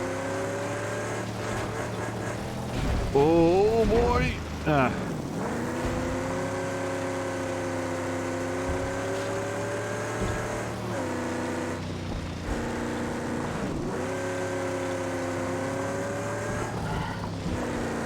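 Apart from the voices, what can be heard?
V8 car engine driving in video game Mad Max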